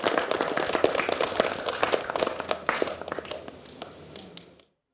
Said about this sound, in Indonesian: Tepuk tangan dulu biar lebih semangat.